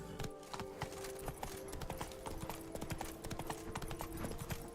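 In The Witcher 3 video game, the horse Roach comes trotting in, a dense run of hoof clip-clops over busy game ambience, steady for the whole few seconds.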